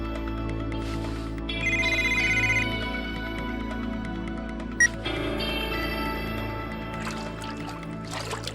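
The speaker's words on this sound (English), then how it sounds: "How can my phone be ringing here?" A phone ringtone plays as a repeating electronic melody over a steady background hum, moderately loud and close, with a brief sharp click partway through.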